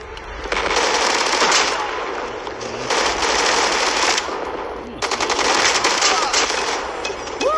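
Rapid bursts of gunfire in Call of Duty Mobile, several long loud volleys with brief gaps between them, heavy and continuous, while a player talks over the action.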